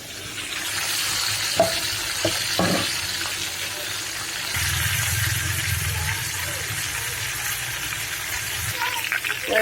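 Chicken pieces for a cook-style roast fry in oil with a strong, continuous sizzle, broken by a few close clinks and scrapes as the pieces are turned over.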